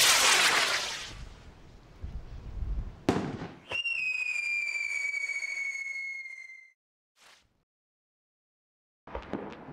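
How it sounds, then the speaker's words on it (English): A firework rocket with red stars and screamers bursts with a loud crackle, then a long high whistling scream sweeps down in pitch over about three seconds. A short pop and a brief burst of noise follow. "The rocket behaves exactly as planned, right down to the screamers."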